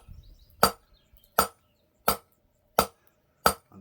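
Five sharp, ringing hammer blows strike hot metal on an anvil during forging, evenly spaced at roughly one per second, each a close, loud metallic clang that quickly decays.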